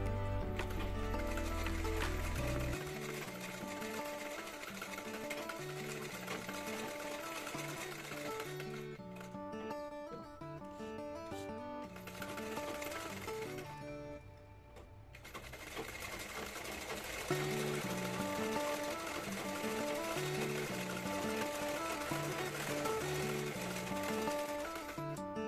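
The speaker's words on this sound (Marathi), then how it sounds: "ते मी साईडने पूर्ण शिलाई मारून घेते दोन्ही पार्टला." An electric sewing machine runs close by in long rapid bursts, stitching the side seams of a princess cut blouse with a steady mechanical chatter, pausing briefly midway before resuming.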